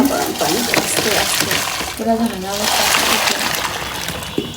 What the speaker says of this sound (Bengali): তো এখন হচ্ছে ছেঁকে নিতে